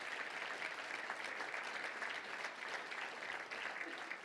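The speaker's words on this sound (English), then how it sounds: "Let's give them a round of applause" A crowd claps steadily, a dense continuous wash of applause heard from a distance.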